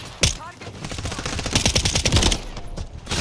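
Rapid SMG gunfire in Call of Duty: Modern Warfare III on the small map Stash House, loud bursts of automatic shots firing in quick rhythm with brief pauses, mixed with game sound effects.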